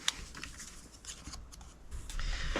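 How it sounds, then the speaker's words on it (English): Scissors snipping steadily through cardstock while fussy cutting out small paper egg shapes, close and distinct, with a run of crisp irregular cuts and light paper rustle. "I'm just going to fussy cut out the eggs."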